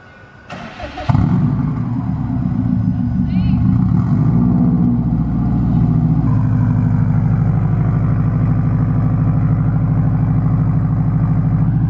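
A tuned 2006 Subaru WRX with 175k miles cranks and fires up, then settles into a loud, deep, rumbling idle that stays steady and close throughout.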